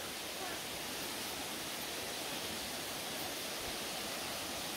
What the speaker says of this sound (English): So there is a man-made river here.